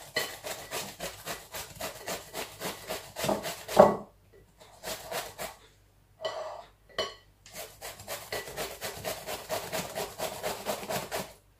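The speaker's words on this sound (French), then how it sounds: "Une courgette que j'ai épluchée et que je vais hacher comme ceci à la mandoline." A peeled courgette is grated on a mandoline at the coarsest setting, giving rapid, rhythmic rasping strokes, close and fairly quiet, with a short pause partway before the steady scraping resumes.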